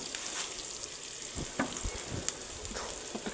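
Something being fried in oil in a pan until lightly browned, producing a soft, steady sizzle with occasional sharper pops and crackles, quiet and close.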